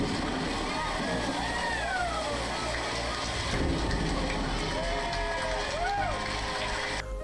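A ship launched sideways crashes into the water, a broad churning rush of splashing and surging waves that holds steady throughout, with people talking and exclaiming over it.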